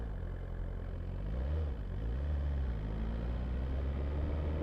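A vehicle engine is revved with a responsive throttle, giving a steady low drone that rises and falls in pitch with a couple of short throttle blips. It sits close and moderately loud.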